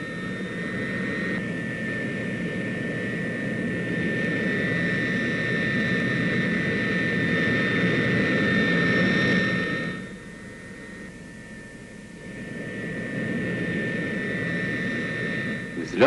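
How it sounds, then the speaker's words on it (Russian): Turboprop engines on a Soviet bomber carrier aircraft start up and run with a steady droning roar and high whining tones, loud and sustained, dipping briefly before swelling again, with a narrator's voice over it. "Заработали турбовинтовые двигатели."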